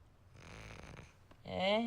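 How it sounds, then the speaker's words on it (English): A single soft, rasping snore drawn in slowly, followed by a brief nasal vocal sound. "Snoring."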